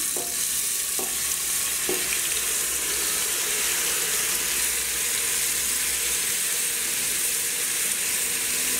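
Beef tripe sizzles steadily in hot oil in a pan, a continuous close frying hiss with a few soft clinks near the start, no voices.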